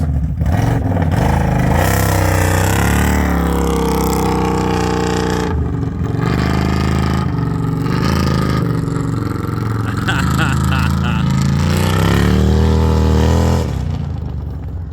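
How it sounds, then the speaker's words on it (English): A loud, rumbling modified Smart car engine revving with a throaty, Harley-like motorcycle burble, sustained and close throughout, with people talking and cheering over it outdoors. "It does kind of sound like a Harley"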